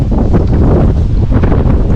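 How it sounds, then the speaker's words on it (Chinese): Strong wind near a New Zealand glacier, heard from a boat, buffets the microphone in a loud, continuous low roar that barely lets up over two seconds. "可是今天风很大，所以其实有点危险"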